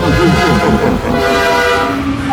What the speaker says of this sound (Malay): Bunyi hon ni boleh buat kita gila.